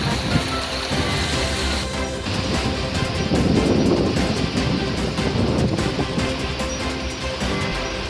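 Heavy monsoon rain pours steadily during the Amba river flood in Nagothane, a dense continuous roar of downpour with no voices.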